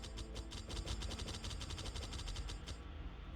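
Necron Skorpekh Destroyer units fire in Warhammer Battlesector with a rapid, rattling burst of evenly spaced shots that runs steadily for about three seconds, then cuts off abruptly.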